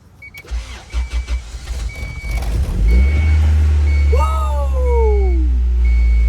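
A Honda DOHC H22 engine cranks with a few rhythmic starter turns, then catches and settles into a loud, steady idle close by, while a warning chime beeps at intervals and a voice exclaims.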